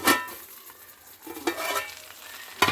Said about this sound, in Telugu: అయితే మూత తీసి కలుపుకుందామండి ఒకసారి